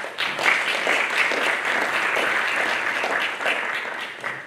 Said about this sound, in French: On peut les applaudir par la même occasion.